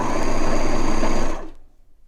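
Serger overlocking a T-shirt banded neckline, a loud, fast, steady mechanical whir running close for over a second before winding down and stopping.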